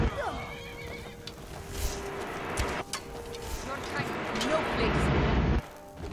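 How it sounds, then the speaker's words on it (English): A tiny ghost horse in the Skyrim video game lets out a loud, drawn-out whinny over faint hoof clip-clops and game ambience, ending abruptly. "That is a ghost, tiny ghost horse."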